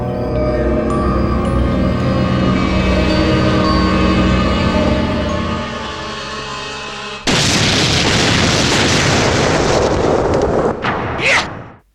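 A bomb blast in a Tamil-dubbed action film: a dense, rumbling soundtrack bed suddenly gives way to a sharp, loud explosion burst that roars on with debris noise before a brief high ring and a fade to silence.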